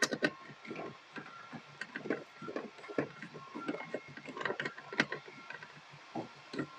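T30 Torx screws are driven back in on a Ford Mondeo Mk3 ST220 during a cabin filter change, giving a close, buzzing, whirring ratchet sound in uneven bursts.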